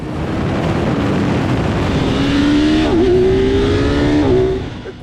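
2026 Kawasaki Z900 motorcycle engine with a bi-directional quick shifter accelerating hard: a loud, continuous rising engine drone, cut by quick shift blips before pulling up again, then easing off at the end.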